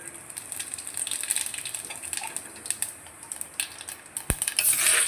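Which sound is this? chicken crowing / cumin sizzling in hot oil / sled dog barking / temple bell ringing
cumin sizzling in hot oil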